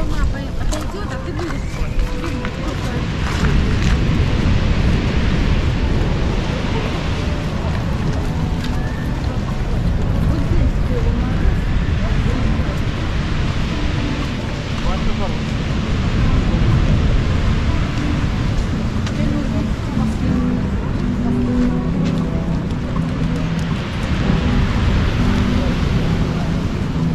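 Stormy sea waves crash and roll against the pebble embankment in Alushta in late autumn, a continuous loud roaring wash with surging swells, while a person talks over it at length.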